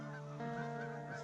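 Geese honk during a goose hunt in Sweden, a short burst of faint, distant nasal calls overlapping against quiet outdoor background.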